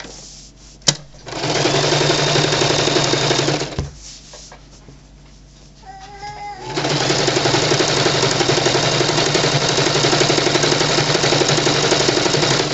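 Sewing machine stitching a pillowcase, a loud steady motorized whir that stops with a click as the needle is left in to turn the fabric, then resumes in a long continuous run.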